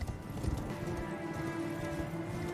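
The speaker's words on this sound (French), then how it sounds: "Ah, lui aussi, il a un cheval." Steady clip-clop of horse hooves in the video game Elden Ring on the Altus Plateau, a continuous galloping rhythm over a low ambient game background.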